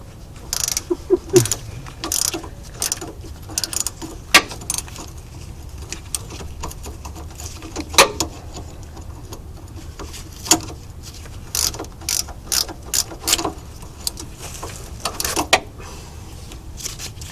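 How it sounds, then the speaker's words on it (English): A ratcheting socket wrench works on front-end steering parts such as the center link and tie rods, giving repeated close clicking bursts in uneven runs throughout, with occasional louder metallic knocks. "If you don't have a ratcheting socket, ratcheting open end, I feel bad for you."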